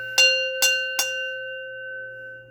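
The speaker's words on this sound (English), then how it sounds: "I'm going to go ahead and ring the bell." Three bright, ringing bell strikes about half a second apart, each leaving a clear sustained tone that lingers and fades slowly in a quiet room.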